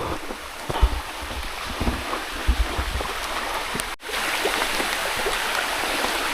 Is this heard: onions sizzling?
no